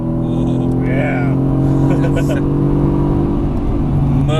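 A Mercedes-AMG GT S on a Las Vegas race track accelerates out of a corner, its engine note loud and steady, with a rising rev tone; a driver speaks over it.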